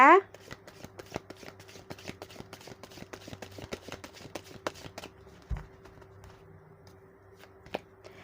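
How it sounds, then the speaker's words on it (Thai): Tarot cards are shuffled by hand in quick rapid flicks and taps, close and crisp, thinning out toward the end with a few scattered card snaps. "อาจารย์จะเป็นตัวแทนสับไพ่เพื่อเปิดดวงให้กับคนวันอังคารนะ"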